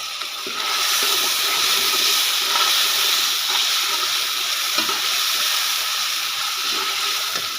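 Garlic fries in oil with a loud, continuous sizzle and hiss, heard up close and steady throughout, with faint stirring clicks underneath.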